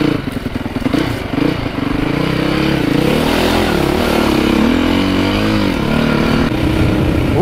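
An enduro motorcycle slithers through slippery clay mud on a dirt road, its engine droning loud and close with wavering revs and clattering, squelching bursts as the tires slide.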